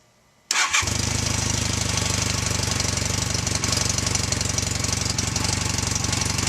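A motorcycle engine cranks and fires up after a short silence, then settles into a steady, loud, close idle with an even knocking pulse and no talk.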